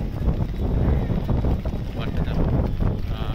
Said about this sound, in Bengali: এই গঙ্গা নদীর জল ঢেউ খাচ্ছে, হাওয়াও দিচ্ছে খুব।